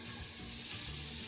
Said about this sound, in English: All we have to do is put them in our frying pan.